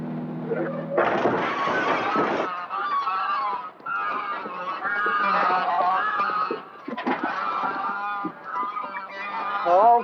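A flock of geese honk loudly and close by in overlapping, nasal calls that continue almost without pause, with a brief burst of flapping or scuffling near the start.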